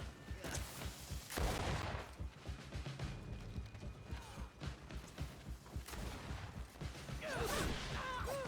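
Volley of musket-style gunfire in the video game GreedFall, a cluttered battle mix of sharp bursts and mechanical clatter at moderate level, with shouted voices and other game effects around it.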